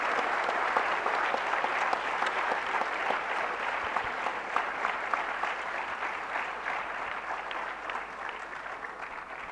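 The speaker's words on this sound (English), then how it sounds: "big round of applause to yourselves and all our panelists" A large conference audience at an HR conclave at IIT Kharagpur applauds steadily after a panel discussion, dense even clapping sustained loudly for the whole stretch with no talk over it.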